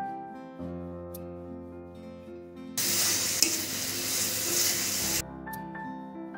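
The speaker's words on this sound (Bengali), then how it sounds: "ভালোভাবে কষিয়ে নেব যেন মশলা থেকে কাঁচা গন্ধ চলে যায়।" Spices with cumin powder and green chillies stir-fried in a pan for Bengali egg bhuna: a broad sizzle and stirring swells in the middle for a couple of seconds, set against steady background music.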